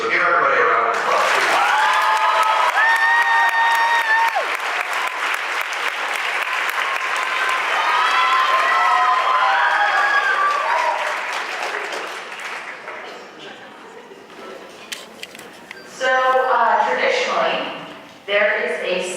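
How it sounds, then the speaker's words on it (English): Loud, sustained audience applause fills a senior band awards night, with cheers and whoops riding over the clapping before it thins into scattered claps and a few voices, then swells briefly again. "So give everybody a round of applause."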